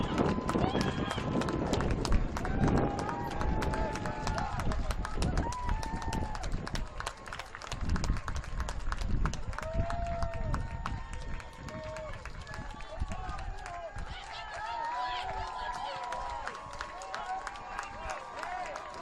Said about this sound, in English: The crowd's fired up.